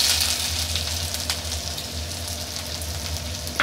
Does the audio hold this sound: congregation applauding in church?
no